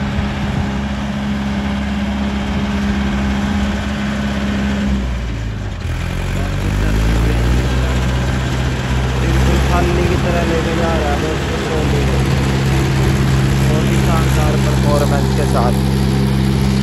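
A Mahindra 585 tractor at full RPM hauls a fully loaded trolley uphill, its diesel engine a loud, steady, close drone that labors and shifts in pitch midway, with someone talking over it.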